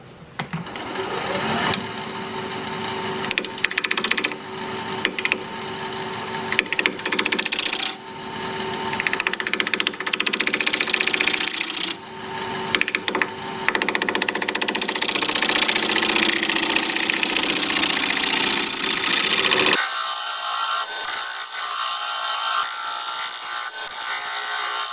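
Both ends of a wood-turning piece are trimmed on a lathe, with a loud continuous cutting and scraping roar over the spinning hum. Brief dips break the sound before it settles into a steadier whine near the end.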